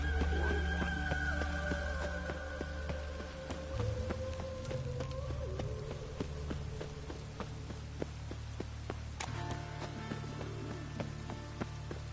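Steady rain patters in the video game Cyberpunk, a constant wash with scattered drip ticks over a low ambient hum and droning tones throughout.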